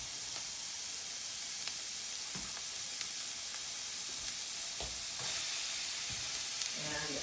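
Peppers sizzling in a frying pan for crispy vegan tacos, a steady hissing crackle with scattered pops and a few stirring scrapes, close and continuous.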